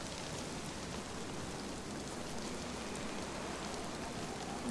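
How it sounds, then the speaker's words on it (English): Rain falling in the video game DayZ, a soft, even hiss of raindrops pattering on surfaces, continuous and fairly quiet throughout with no one talking. "Oh, good rain."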